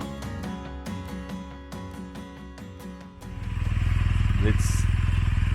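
A few words are spoken over idling adventure motorcycle engines, then several bikes rev loudly and pull away close by down a mountain 4x4 trail in a sustained, rough roar.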